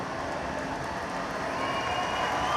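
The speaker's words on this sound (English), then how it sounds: "Applause, cheers" Audience applause and cheering for Lewis Hamilton after the 2021 Abu Dhabi Formula 1 race, a steady dense wash of clapping and crowd noise held at even loudness throughout.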